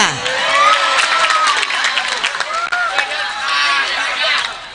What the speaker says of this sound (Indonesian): Tepuk tangan buat Yuda